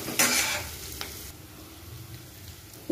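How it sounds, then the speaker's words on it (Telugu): Spinach and other ingredients for a dal fry sizzle softly in a pan while a utensil stirs them, with a few scraping clicks and a clink of metal. "ఇలా అన్నీ వేసి చక్కగా వేగే వరకు కలుపుకోవాలి."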